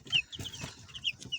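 Chickens, white-feathered broiler birds, clucking in a coop, with short repeated calls rising over a busy flock murmur at moderate distance.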